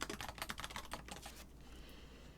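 Quick bursts of clicky keystrokes on a computer keyboard, close and fairly quiet, tapping in an irregular rhythm before trailing off into faint room noise.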